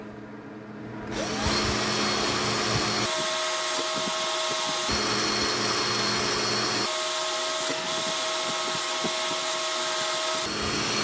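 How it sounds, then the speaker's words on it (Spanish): A power drill whines loudly in bursts, its small wire brush scrubbing and rattling against a water pump's metal impeller, pitch shifting as the drill speeds up and slows repeatedly. "La turbina solamente le vamos a pasar el taladro con la pequeña escobilla de metal"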